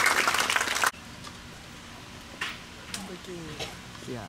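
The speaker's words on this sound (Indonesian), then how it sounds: "Kita antar dengan tepuk tangan yang hangat" An audience claps warmly to welcome the governor at an official event, a loud burst of applause that stops abruptly, followed by a person speaking into a microphone over a quiet hall.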